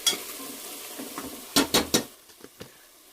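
Fried onions with turmeric are stirred in a pan for goat head curry, with a low sizzle under several sharp spoon-against-pan scrapes and clinks, close up and without talk.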